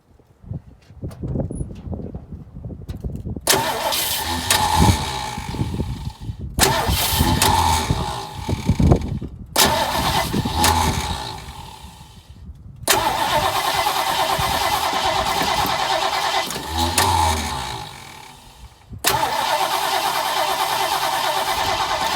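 A 1968 Ford Mustang V8 fitted with a replacement carburetor after sitting eight years cranks in several separate bursts with pauses between, then catches and settles into a steady, loud running idle close by.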